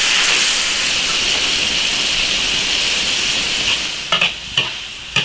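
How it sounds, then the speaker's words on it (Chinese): Pork belly and eggplant braise in an iron wok over high heat, a loud dense sizzle that eases slightly before several sharp scraping stirs and clanks near the end. "这个肉烧到八成熟，把这个茄子放进去，茄子下锅再煮个五分钟"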